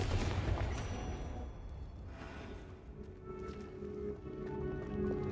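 A Confringo blasting spell fires in the Hogwarts Legacy video game, a loud crackling burst at the start that fades into scattered pops and a steady hum of game ambience.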